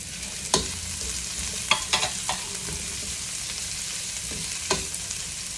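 Chopped onion sizzles steadily in a hot oiled pan, a continuous close hiss broken by a few sharp spatula scrapes and taps against the metal.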